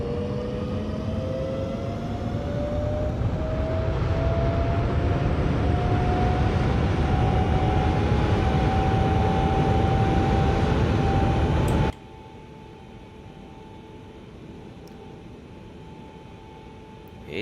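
Boeing 777 engines in X-Plane 11 spool up to takeoff power with a loud, steady roar and a rising whine, then cut abruptly to a quieter hum.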